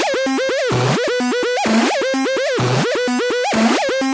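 Synthesized sound effect built in the Serum synth, a loud buzzy wobbling tone with rapid rising and falling pitch sweeps, repeating in a looping pattern of chirpy bursts and short dips, no talk.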